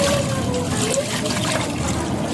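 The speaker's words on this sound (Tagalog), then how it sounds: "Tubig." Water pouring into a pot for Filipino beef bulalo over bones and meat, a steady close trickling splash running throughout.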